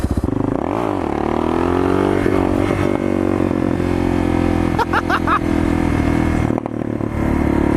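A Suzuki DR650 motorcycle engine roars loudly and close as it revs and pulls through a wheelie, with a sustained throaty drone and brief clatter, heard alone without talk.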